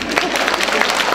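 An audience at a Russian folk-song concert claps briefly, a dense even patter of hands filling the hall for about a second.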